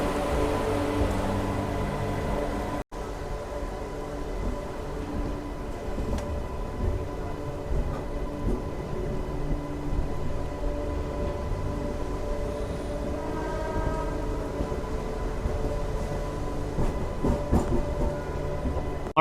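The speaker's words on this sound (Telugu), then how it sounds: "మన ట్రైన్ వచ్చేసి కోడూరుకి అయితే వచ్చేసింది." A MEMU passenger train runs through rain, its wheels beating out a steady clickety-clack over continuous low rumble and the hiss of rain, loud and close from inside a carriage, with one brief sharp knock near the start.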